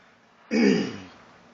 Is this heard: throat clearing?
yes